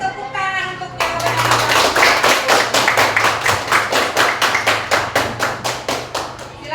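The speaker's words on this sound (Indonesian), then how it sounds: "Beri tepuk tangan untuk jawaban" Classroom of students applauding a group's answer, a sustained burst of many hands clapping in a rapid, fairly regular rhythm, loud and close, after a brief moment of a voice speaking.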